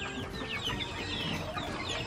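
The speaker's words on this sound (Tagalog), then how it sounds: "Yung nasa baba yung mga sisiw. Tapos yung pangalawang batch po, yan yung nasa taas. Mga sisiw natin. Yung Rhode Island na may mix ng native." Chicks and young chickens of a Rhode Island and native mix cluck and peep together on a farm, a dense, continuous chorus of soft overlapping calls close by.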